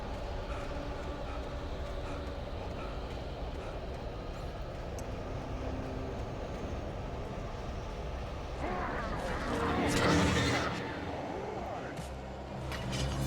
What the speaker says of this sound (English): Thunder! Yeah, because it's loud. It's like thunder.